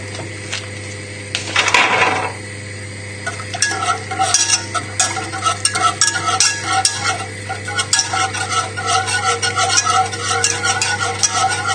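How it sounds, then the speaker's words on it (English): Lamb shank sauce being whisked with pieces of butter in a heated pan, a whisk scraping and ticking against the metal in a quick, steady rhythm, with soft sizzling underneath. "We'll just keep whisking it till the butter's all emulsified"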